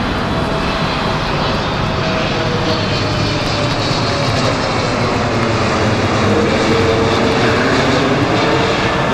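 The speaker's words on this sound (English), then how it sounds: "There's a plane right there." A propeller airplane drones steadily overhead near O'Hare in Burbank, Chicago, its engine hum loud and continuous with a slowly shifting pitch.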